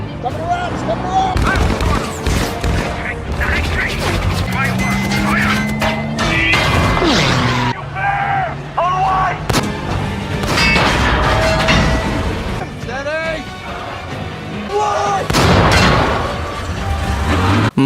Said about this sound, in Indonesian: War Daddy meminta Gordo segera memutar ke belakang Tiger dan menembak bagian belakangnya.